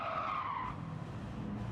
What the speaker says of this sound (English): One elbow off the track we go. Bouncy bounce, spin around